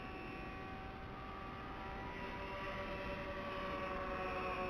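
A 44-inch KFm-4 RC plane flies continuously, its steady electric motor and propeller drone holding level and slightly rising in loudness, with no talk over it.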